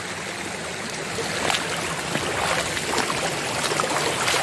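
A mountain stream in a rural hill village rushes steadily in heavy rain, a constant broad wash of flowing water at close range, with no voices.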